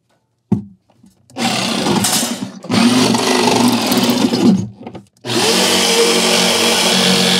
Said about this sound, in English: we'll drill a pilot hole and then grab the jigsaw